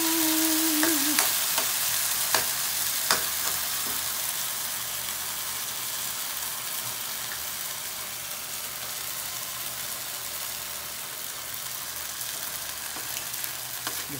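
Sardines sautéing in a hot pan for a Filipino sardine soup with sweet potato leaves and alugbati, a steady crackling sizzle with occasional sharper pops and stirring clicks, close and continuous with no talking.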